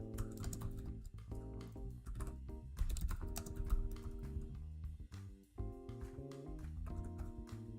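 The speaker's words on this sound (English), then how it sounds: "Let's type it in." Rapid bursts of typing clatter on a computer keyboard during a C++ programming session, close and clear, with short pauses between runs of keystrokes and no talk.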